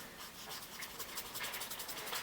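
A drawing tool scrubs back and forth across paper while shading the fur around a cat's eye, a soft, steady close-up rubbing with short repeated strokes and no talking.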